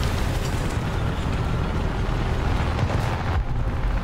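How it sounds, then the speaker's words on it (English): Heavy tank gunfire and battle noise from the video game War Thunder form a dense, continuous rumbling roar with booming low end throughout, with no speech over it. "I hear some heavy gunshots."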